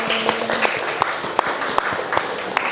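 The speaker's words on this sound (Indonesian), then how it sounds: "beri tepuk tangan untuk kita semuanya hari ini" A group claps steadily, with a few louder individual claps standing out above the continuous patter of applause.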